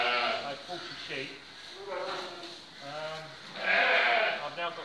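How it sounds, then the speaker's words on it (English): Sheep bleat repeatedly at close range on a lambing farm, wavering calls overlapping one another with a couple of louder, sharper cries toward the end, amid general farmyard noise. "I've bought a sheep."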